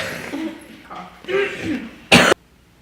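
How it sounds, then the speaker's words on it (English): A person talks briefly, then lets out one sharp, close cough at the end. "Wait, I need to cough."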